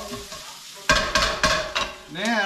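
Onions browning in a pan sizzle close up, with several rhythmic stirring scrapes in quick succession over a couple of seconds.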